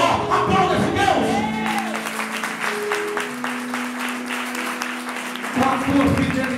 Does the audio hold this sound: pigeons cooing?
no